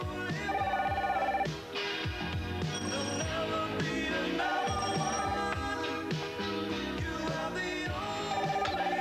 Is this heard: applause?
no